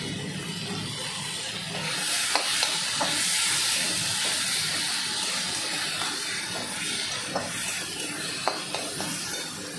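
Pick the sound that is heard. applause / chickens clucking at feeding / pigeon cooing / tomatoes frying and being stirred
tomatoes frying and being stirred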